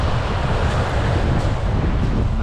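Strong wind buffets the microphone on an open sea shore by a busy shipping channel, with waves and surf rumbling underneath, loud and continuous without a break.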